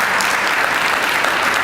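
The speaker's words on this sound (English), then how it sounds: "Please give them a round of applause for all their work in the city" A crowd at a 2020 State of the City address applauds city commissioners with steady, dense clapping that fills the whole moment without a break.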